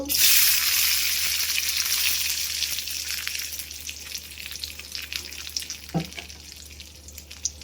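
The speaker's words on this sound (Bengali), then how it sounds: "কিশমিশটা একটু ভেজে নিব ঘি দিয়ে দিলাম এক চামচের মতো দিয়ে দিব" Raisins frying in about a spoonful of ghee for chickpea halwa, a loud bright sizzle at first that gradually softens, with small pops and a stirring knock near the end.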